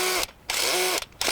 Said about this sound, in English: If you're going to plant more bulbs and you stick them in the hole, I'll drill the hole.